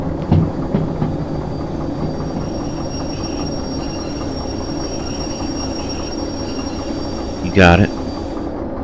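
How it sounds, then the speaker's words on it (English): A freight train in the railway game Derail Valley rolls and brakes toward a halt, a steady low rumble of wheels on rails with a sharp wheel squeal near the end and a short spoken remark early on. "Let's bring the train to a halt before the next switch."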